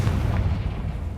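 A fiery Confringo spell blast in Hogwarts Legacy aimed at a battered bridge, a dense, rumbling boom that stays heavy and loud for its whole short length with no voices over it.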